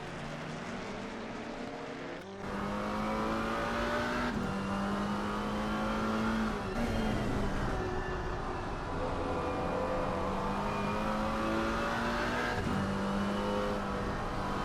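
Multiclass race cars in a sim racing endurance championship, a Mustang among them, drone steadily with layered engine tones rising and falling through gear changes and passes, no voices.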